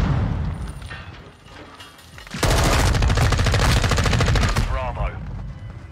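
Loud, close automatic gunfire in a military shooter video game, a rapid continuous burst of shots lasting a couple of seconds after a quieter stretch of game ambience.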